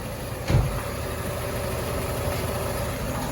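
A Peugeot 408's steady, low engine and exhaust rumble idles continuously, with a single short thump near the start and no voices.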